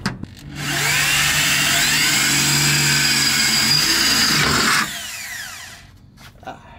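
Power drill boring a hole beneath a Nissan 370z during an undershroud install, a loud, steady whine that runs for about four seconds, then cuts off abruptly and is followed by quieter ambient noise.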